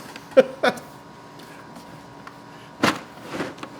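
A drawer in a tool set case sliding open, heard as a few sharp close clicks and clunks, then a brief scraping slide with a softer rattle after a pause.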